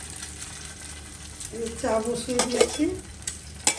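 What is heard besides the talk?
egg frying in a pan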